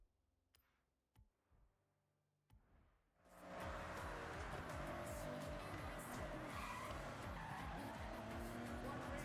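In the Forza racing game, a car engine roars and tires skid and squeal loudly and continuously after a few seconds of quiet clicks and soft thumps.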